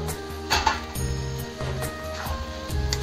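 Potatoes and cauliflower stir-fry with spices in a pan, with a steady sizzle broken by repeated close clinks and scrapes of a spatula against the metal.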